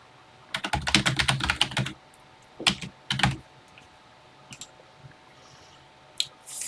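Fingers type on a TI-99/4A computer keyboard in quick bursts of clacking keystrokes, then a few scattered single key presses after short pauses, close and clear in a quiet room.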